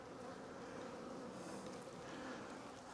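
Agitated honeybees buzz around an opened, tightly packed hive during a split, making a dense, steady drone that fills the whole stretch, close and unbroken.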